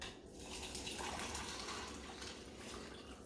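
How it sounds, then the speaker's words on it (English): Water pours steadily from a tap into a container for a county-fair-style lemon shake-up, a soft continuous trickling rush heard close but quiet, without any speech. "And now you want to fill it up with water."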